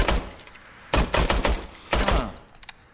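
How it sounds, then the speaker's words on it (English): The officer's service weapon fires in RoboCop Rogue City, two loud quick bursts of a few rapid shots each, about a second apart, with a faint click trailing after. "let's try out the officer's service weapon"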